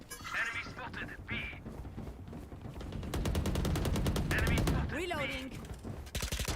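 Rapid automatic gunfire in Valorant, a dense stream of close shots building to a long sustained burst, with game voice lines and a player talking over the shooting.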